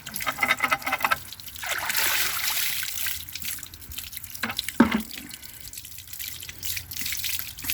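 Water from a garden hose runs into the bottom of a bucket of aquarium sand, a steady close gurgling trickle with a few brief splashy drips.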